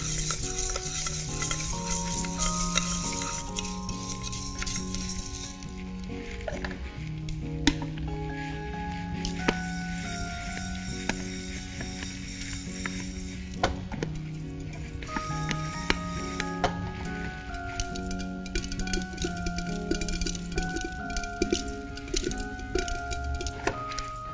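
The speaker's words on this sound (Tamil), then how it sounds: "கொஞ்சம் பொரிய ஆரம்பிச்ச உடனே மூடி போட்டு நம்ம அதை பொரிய விட்டுடலாம்." Sorghum grains popping in a covered pan, a dense continuous crackle and rattle that is close and steady throughout, with no talking.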